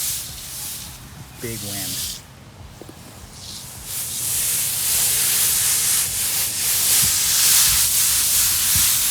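Water sprays from an Eley hose reel nozzle onto short, dry grass on a hot day, a steady broadband hiss that grows louder and fuller over the second half, with a brief spoken remark early on.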